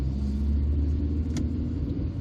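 A 1999 Seat Arosa 1.0 engine hums with a low, steady rumble while driving through a series of roundabouts, with road noise throughout and no voices.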